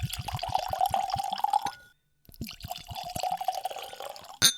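Dettling cask strength whisky pours into a glass in a steady liquid trickle, then stops briefly, then a second pour follows. A small clink comes at the end, close and clear.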